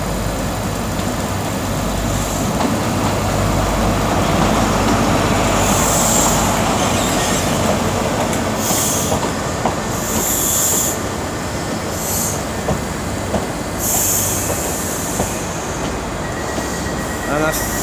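ScotRail trains pull out of Glasgow Queen Street on the 12:15 service to Edinburgh, a loud continuous rumble of rolling stock with repeated high wheel squeals and faint clicks.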